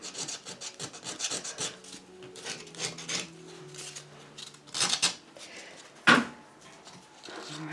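Sandpaper rubs over a chalk-painted old wooden shelf to distress it, making quick repeated rasping scrubs in bursts, close and fairly loud, followed by a sharper knock near the end.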